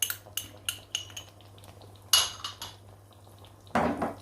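A spoon mixes salt, red chili, dried coriander, garam masala and turmeric in a bowl for mung dal mangochiyan. It makes close, scattered clinks and scrapes of metal on the dish, with a louder clatter near the end.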